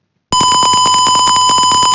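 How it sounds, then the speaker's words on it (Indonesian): A computer-generated alarm tone from an Oracle program, meant to wake a client who struggles to get up, starts abruptly and repeats in a rapid, loud, steady beeping pattern. "alarm akan berbunyi terus"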